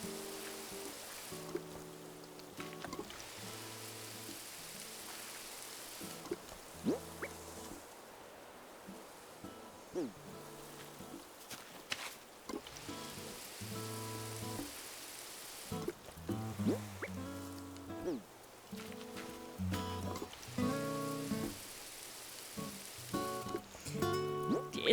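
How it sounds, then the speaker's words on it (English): Watering can sprinkling flowers in Animal Crossing: New Horizons, a soft trickling and splashing that repeats in short bursts over a steady gentle backdrop, with light plinking chimes scattered throughout. "I'm just gonna water it again."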